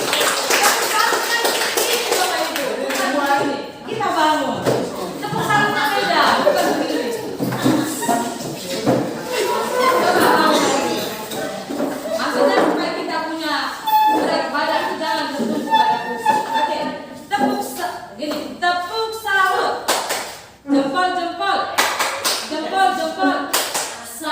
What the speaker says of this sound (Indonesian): kita berikan tepuk tangan untuk Pak Sanchez